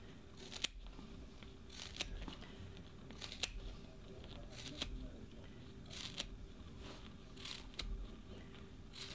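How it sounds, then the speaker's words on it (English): Repeated crisp snipping crunches from heavy scissors cutting through a plaster cast on a patient's limb, roughly one cut per second, close up over a low steady background hum. "You need to keep your scissors parallel to the patient's limb."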